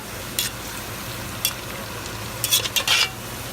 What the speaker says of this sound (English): We're going to stir real good to get all this flavor.